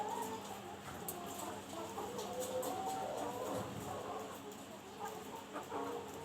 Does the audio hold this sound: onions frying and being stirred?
no